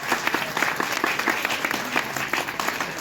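An audience applauding at a poetry recital: a steady wash of many hands clapping at moderate volume with a loose, irregular rhythm, carrying on evenly with no voices over it.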